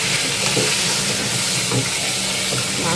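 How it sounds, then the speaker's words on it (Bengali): Fish sizzles in hot oil in a pan during large-batch wedding-order cooking, a steady frying hiss with faint stirring clatter and no talking. "মাছটা ভাজা হয়ে গেছে, এখন উঠাই নেব।"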